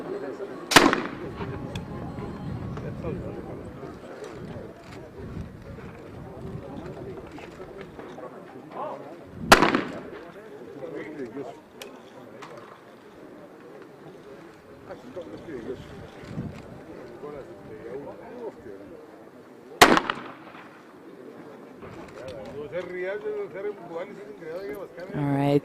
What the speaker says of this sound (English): some test fire from the finalists, the 4 athletes who will be competing for the medals